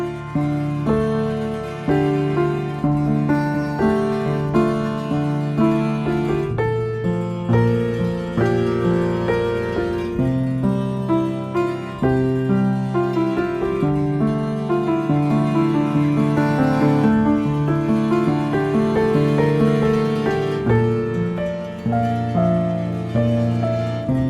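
Step Into Frame, a preset from the Frames instrument by Void & Vista built from prepared and experimental sounds, plays as a dense, layered tonal texture. Overlapping sustained and plucked notes shift steadily at an even loudness, with no talking.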